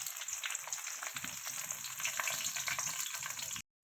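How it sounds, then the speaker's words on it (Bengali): Cumin seeds, bay leaf, dried red chilli, cinnamon, cloves and cardamom frying in hot oil, a dense continuous crackle and spit heard up close, cutting off abruptly near the end, with no voices. "আমি তেলে দিয়ে দিলাম জিরে গুঁটা তেজপাতা শুকনো লঙ্কা দারচিনি লবঙ্গ এলাচ"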